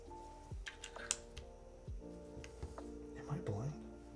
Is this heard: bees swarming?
no